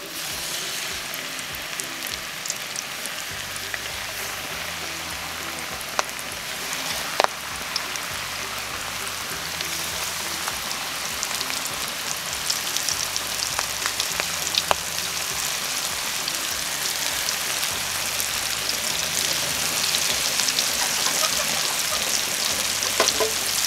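Milkfish (bangus) skin sizzles and crackles steadily in hot oil, a continuous close frying hiss with occasional pops and no talking.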